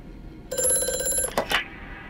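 An old-style telephone bell rings in the horror game Amnesia: A Machine for Pigs, a single bright metallic trill of under a second ending in a clattering burst, alone with no talk.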